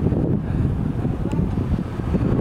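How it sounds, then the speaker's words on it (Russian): Gusty wind buffeting outdoors beside high-rise buildings in Almaty, a loud rumbling roar that fluctuates without pause. "Сегодня, кстати говоря, ветрено."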